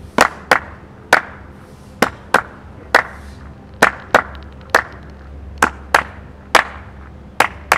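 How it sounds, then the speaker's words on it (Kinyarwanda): In a dance class, hands clap a rhythmic pattern of paired beats, about fifteen close, sharp claps with short and long gaps between them, loud and clear with no voices. "Amashyi mujye muyareba nayo murebe ko ari guhuza n'ikirenge"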